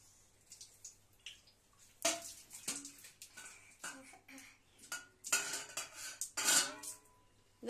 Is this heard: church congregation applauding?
no